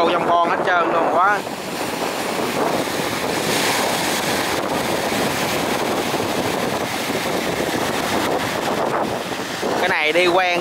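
Sea waves slap against a small barge of a few dozen tonnes heading out to sea, a steady loud wash of surf and wind noise throughout, with a voice talking briefly at the start and end.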